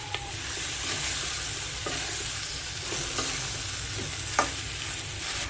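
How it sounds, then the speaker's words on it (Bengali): Pasta being stirred and mixed with tomato sauce and mayonnaise in a pan, a steady sizzling hiss with intermittent scraping clicks of the utensil, close and continuous. "পাস্তাগুলো মিক্স করে, ভালো করে মিক্স করে"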